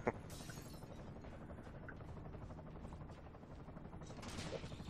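A four-barrel shotgun fires in the Bulletstorm video game. One sharp blast opens, followed by dense, continuous gunfire and action noise that fills the rest.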